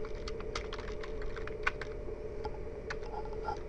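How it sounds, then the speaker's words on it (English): Someone typing on a computer keyboard while entering a spreadsheet header: a steady patter of close, crisp key clicks at an even pace, with no speech. "Then I type Family Coverage"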